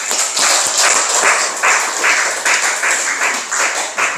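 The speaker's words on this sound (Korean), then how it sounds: "우리 박수로 한번 축하하겠습니다" A church congregation at an Easter service claps in celebration, loud and close, a lively, uneven patter of many hands that surges in waves and continues without a break.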